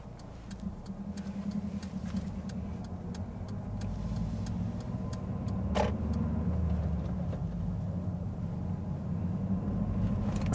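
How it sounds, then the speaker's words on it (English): A van drives past on a road in Morden, a steady low engine and tyre rumble heard from inside a car that swells slightly as it goes by, with faint regular ticking of an indicator throughout. "Oh, there's a van coming."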